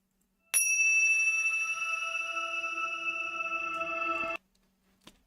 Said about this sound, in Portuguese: a nossa vibração começa com este sino.